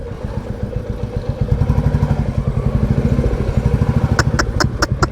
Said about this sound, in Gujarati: કેટલી બધી બાઈકો છે, કેટલી બધી બાઈકો છે.